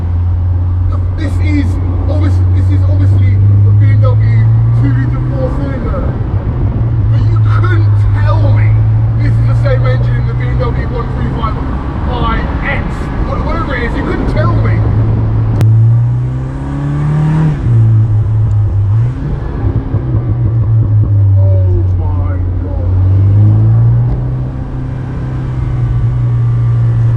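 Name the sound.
Morgan Plus Four car with BMW engine driving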